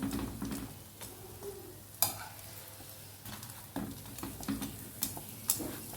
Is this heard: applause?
no